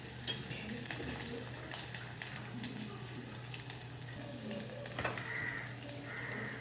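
Onions and green chillies frying in a pan while moringa leaf stir-fry is being made, a steady close sizzle running throughout with occasional stirring scrapes and no talk.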